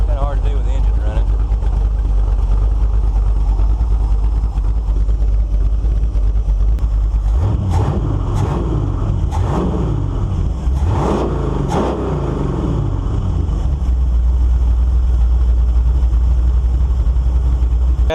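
A 1948 Chevy engine fitted with a new Quick Fuel 750 carburetor runs steadily, then revs up in several loud bursts in the middle before settling back to a rumbling idle.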